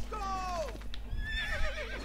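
A horse in the video game Assassin's Creed II gives a clear whinny, with a second neigh shortly after, over a low steady game background.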